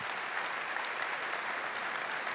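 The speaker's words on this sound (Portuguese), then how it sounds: "Vamos aplaudir essa graça." Congregation at a Catholic Mass applauding, a steady, dense wash of clapping from many hands filling the whole moment, with no voices standing out.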